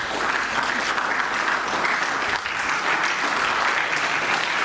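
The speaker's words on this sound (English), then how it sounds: "Please, with a big round of applause," Sustained, even applause from an audience at a school book launch in Ranchi, a dense, steady clapping that fills the hall at constant loudness with no speech over it.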